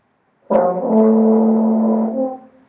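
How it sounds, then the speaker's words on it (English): One sustained brass horn note played with dry lips sounds with a buzzy, fuzzy edge, starting abruptly and fading out after about two seconds. "you don't get little fuzzy sounds coming out of your horn"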